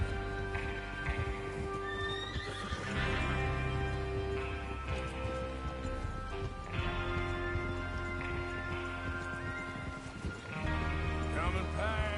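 Horses in Red Dead Redemption II whinny and neigh several times over clip-clopping hooves and a busy game soundscape, loud and close.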